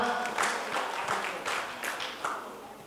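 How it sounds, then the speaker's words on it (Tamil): Audience applause in the Indian Embassy Auditorium in Abu Dhabi welcoming a singer at a singing competition, a steady wash of many hands clapping at moderate loudness, swelling slightly in waves throughout. "அவர்களுக்கு ஒரு பலத்த கரகோஷங்கள் கொடுத்து ஆரம்பிச்சிடலாமா?"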